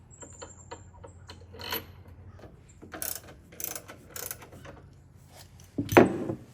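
Factory bolts go back into a Jeep Wrangler JL's aftermarket spare tire carrier, heard as quick ratchet clicks and metallic clanks in short irregular bursts at close range in a quiet garage, ending with a louder scrape.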